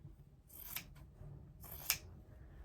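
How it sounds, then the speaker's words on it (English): Scissors snip through quilt fabric between two sewn lines, two quiet crisp cuts about a second apart, close and alone in a hushed room. "I'm going to cut in between those two sew lines to cut off my bonus HST."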